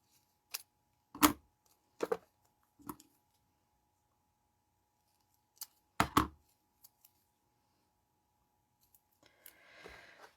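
Old Stampin' Up! crafting scissors make a few separate crisp snips through material, sharp isolated clicks against near silence, followed by faint rustling.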